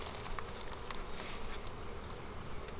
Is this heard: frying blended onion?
no